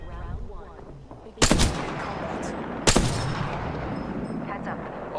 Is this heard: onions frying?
no